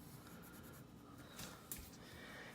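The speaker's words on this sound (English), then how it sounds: "Again, I'm pressing pretty hard on that pencil." Close, steady scratching of a pencil shading hard on paper for a 3D cube drawing, a continuous dry rasp with a few sharper strokes, heard alone with no talking.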